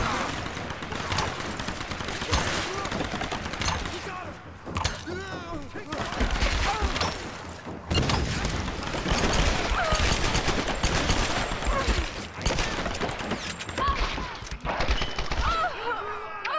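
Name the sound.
gunfire in the video game Tomb Raider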